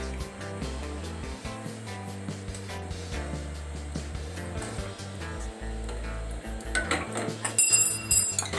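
Metal pooja items clink and clatter against each other as they are scrubbed with lemon, a close run of light metallic knocks and scrapes with a louder burst near the end.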